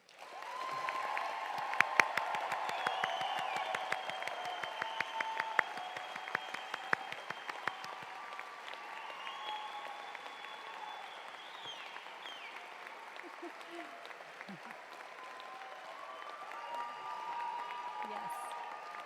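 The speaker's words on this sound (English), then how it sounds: "Please join me in a round of applause for the Class of" An audience at a medical school white coat ceremony claps for the graduating class. Crisp, busy applause rises at the start and then thins and softens, with faint talk in the hall.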